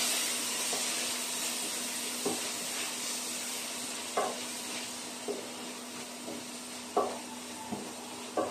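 Sautéing ingredients for ginisang ampalaya stirred in a pan: a soft continuous sizzle with a spatula scraping and knocking at irregular intervals, several sharper clinks standing out, close by and fairly quiet, without talk.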